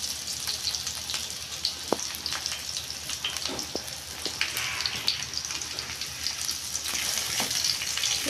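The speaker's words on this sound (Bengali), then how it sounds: "এখন আমি বেগুন, টমেটো, রসুন, পেঁয়াজ, শুকনো মরিচ সব কিছু ভালোভাবে ভেজে নিব।" Eggplant, tomato, garlic, onion and dried chili fry in a pan with a steady hiss and sizzle, broken by a few faint pops and stirring taps, close and even throughout with no talk.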